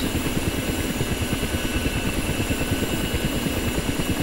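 Ka-50 helicopter right engine spinning up in the DCS flight simulator, a steady loud turbine whine over a rapid low rhythmic thrum that continues without a break.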